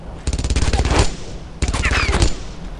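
Two long bursts of rapid machine gun fire in the World War II shooter Brothers in Arms: Earned in Blood, loud and close, each lasting under a second with a short gap between.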